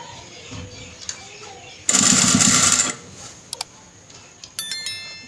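A sewing machine stitching kapron fabric for a dress hem and sleeve design runs in one loud burst of about a second, followed by a few scattered light clicks in a quiet room.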